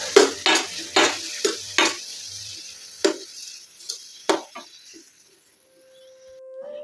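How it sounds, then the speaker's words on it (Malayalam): Papaya pieces stirred into beetroot juice and sugar in a pan: a spoon knocks and scrapes against the metal in a quick run of close clinks, slowing to a few scattered taps before quiet. "അതിനകത്തേക്ക് നമുക്ക് ഈ പപ്പായ ഇട്ട് കൊടുക്കാം."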